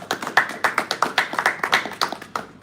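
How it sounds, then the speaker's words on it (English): A room full of people claps at a signing ceremony, a brisk run of sharp, overlapping handclaps that rise and fall in quick bursts for a few seconds. "Can we clap for Ayman, please"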